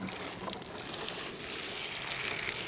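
Water is poured over seed pots at a community allotment, a soft continuous splashing and trickling with a gentle hiss that runs steadily through the clip, with no one speaking.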